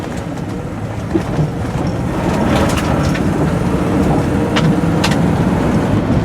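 A 1964 Cadillac convertible's engine revs and rumbles steadily louder as it accelerates on a country road, a continuous roar with road noise and no voices.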